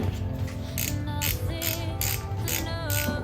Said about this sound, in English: Just going to tighten it down most of the way.